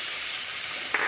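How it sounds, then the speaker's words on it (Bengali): Chopped tomatoes hit a fried spice paste in hot oil, giving a continuous bright hiss close by, with a brief stir-like clatter near the end. "এখন দেব কেটে রাখা টমেটো"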